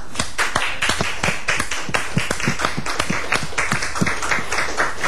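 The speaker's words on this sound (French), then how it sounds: "On les accueille tous sous vos applaudissements." A television studio audience claps to welcome guests onto the set, the individual claps distinct and fairly rhythmic, close and moderately loud throughout.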